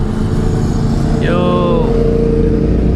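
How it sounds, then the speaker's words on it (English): Loud engine noise from a Nissan 350Z on an ocean backroad drones throughout as motorcycles pass close by, with a rising whine sweeping through partway. "Oh, there's some motorcycle dudes."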